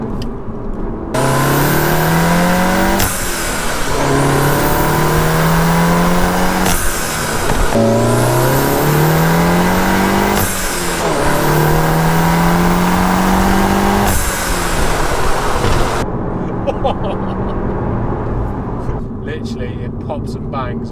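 A turbocharged VW Golf GTI Clubsport S accelerates hard through several gears, each pull a rising engine howl broken by a shift, then settles into a quieter cruise with faint pops as the throttle closes.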